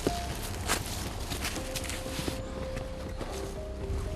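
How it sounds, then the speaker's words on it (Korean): An herb gatherer walks a rough, untrodden mountain path in quiet forest, his footsteps crunching and scuffing close by in an uneven steady rhythm over a constant outdoor hiss, with faint sustained tones in the background. "고요한 산속의 약초꾼의 발소리와"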